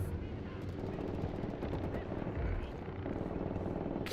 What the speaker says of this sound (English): I don't remember there being a helicopter last time.